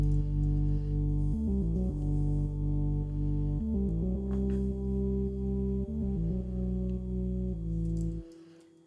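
Layered synth bass line for a track, with a second copy of the sound pitched up 19 semitones for added brightness. Sustained low notes change in a repeating pattern and stop abruptly near the end.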